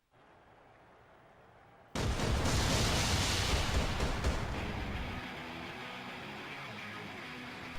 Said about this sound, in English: Did you like my fancy fireworks?